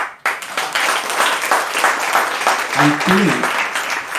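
Audience applause at a Pedalshakti book launch: steady dense clapping from a crowd, fairly loud and continuous, with a speaker's voice briefly heard over it.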